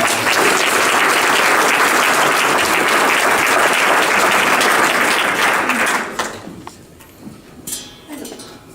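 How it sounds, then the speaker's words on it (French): An audience at a school public-speaking contest applauds a speaker with loud, dense, sustained clapping for about six seconds, then it thins to a few scattered claps and fades. "on t'encourage avec 1001 applaudissements"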